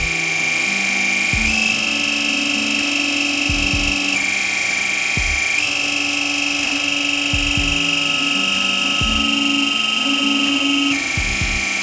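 A manually actuated hydraulic power unit runs under rising load while its pressure-relief valve is adjusted: a loud, steady mechanical whine and hum holds throughout, shifting pitch slightly at intervals, with occasional low knocks beneath.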